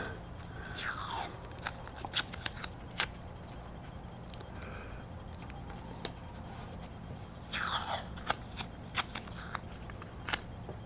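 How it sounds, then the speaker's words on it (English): Green painter's tape being pulled off the roll, torn and pressed around a car emblem on the body paint: sharp ripping strips and scattered crinkly taps and crackles, close and alone. "I'm going to take some green painter's tape. I'm going to tape around here"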